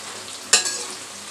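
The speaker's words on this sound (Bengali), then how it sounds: "পেঁয়াজগুলোকে ভালো করে ভেজে নিচ্ছি।" Onions frying in a pan for a horn fish curry give a sudden burst of sizzle as they are stirred, then a steady soft hiss that lingers close by.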